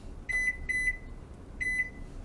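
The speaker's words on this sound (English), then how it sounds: "So I'm going to set my timer." A kitchen timer being set while cooking chilaquiles in a pan gives three crisp electronic beeps, each a short double chirp, loud and close with no talk over them.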